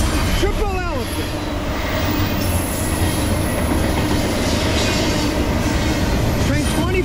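A Norfolk Southern freight train led by Union Pacific AC44CW locomotive 6691 rumbles steadily past close by, wheels clacking, with occasional metallic squeals over the continuous roar.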